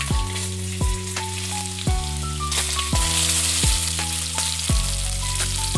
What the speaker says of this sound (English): Now I have taken 80 ml of mustard oil and I am going to add 1 teaspoon of cumin seed